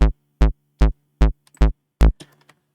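Psytrance bass patch from the Sytrus synth with drive switched on, six short punchy plucked notes in a steady rhythm, loud and dry, followed by faint clicks.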